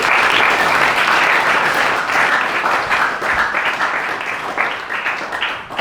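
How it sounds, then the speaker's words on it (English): Loud, sustained audience applause at a school gathering, many hands clapping densely and steadily before gradually thinning out toward the end. "And then yes, let's clap."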